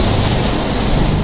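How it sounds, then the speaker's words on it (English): Ocean waves driven by Hurricane Florence crash through a beach home in North Topsail Beach, a loud, dense roar of surging water and wind noise with no speech. "Take a look at the waves crashing inside this home in North Topsail Beach."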